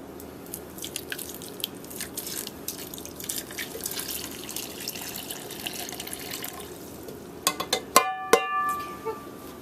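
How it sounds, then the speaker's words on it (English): Boiling water poured over hot fudge cake batter in a slow cooker, a soft trickling and dripping stream that builds into sharper splashes and clinks near the end, close and moderately quiet, with no talking. "Then you pour the 1½ cups of boiling water over it."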